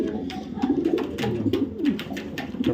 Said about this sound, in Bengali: একটা মাদি ছাড়ি ডাকটা দেয় কবুতরটা